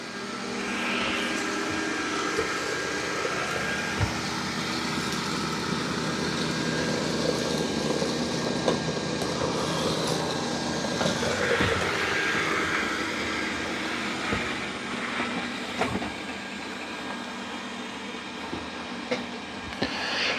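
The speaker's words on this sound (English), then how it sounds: "Now this robot is vacuuming and mopping at the same time." A Dreame D9 Max Gen 2 robot vacuum runs while vacuuming and mopping at once on its highest wetness setting, a steady broadband motor whir and airflow hum that stays even throughout, with no voices.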